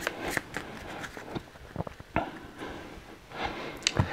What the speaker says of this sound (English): And then you're going to give them a really good shuffle.